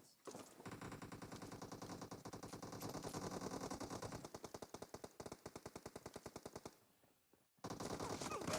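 Automatic weapon fire in the mobile game PUBG arrives as long, rapid bursts of loud gunshots, followed by a short gap and another burst, with no voices.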